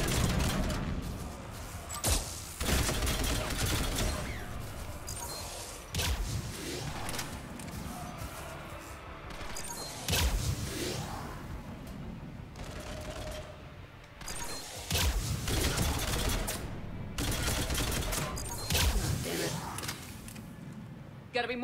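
Repeated bursts of automated fire from a deployed turret in Mass Effect 3 during a fight on the colony Horizon, loud, clustered shots mixed with thuds and combat noise across the whole stretch.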